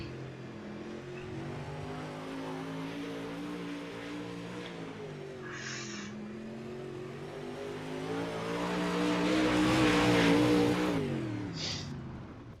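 A race car runs a lone qualifying lap at Kokomo Speedway, its engine droning steadily and then swelling louder as it comes closer before easing off again, with a few brief high squeals along the way.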